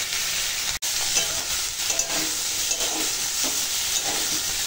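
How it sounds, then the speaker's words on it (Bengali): Banana and papaya with turmeric and spices stir-fried in a pan for a small rohu fish curry, a steady close sizzle with soft scraping of a stirring spoon throughout and one brief dropout near the start. "মশলার সঙ্গে আনাজ অনেকটা সময় কষিয়ে নিয়েছি"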